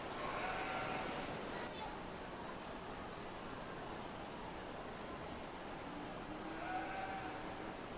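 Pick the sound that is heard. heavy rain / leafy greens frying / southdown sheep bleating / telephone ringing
southdown sheep bleating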